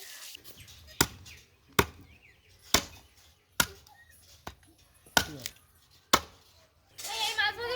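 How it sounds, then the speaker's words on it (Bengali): A knife chops through raw chicken on a board at home, seven sharp, loud strikes spaced about a second apart, followed by a brief clattering scrape at the end. "আমাদের চিকেন কাটা কমপ্লিট"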